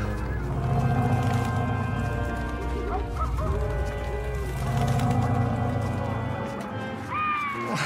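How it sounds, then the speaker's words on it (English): Wolves howl in an animated Monkey King film, with long drawn-out, wavering cries rising and falling over a continuous musical score, some howls overlapping and growing louder near the end. "Howling is louder. Those wolves are closer."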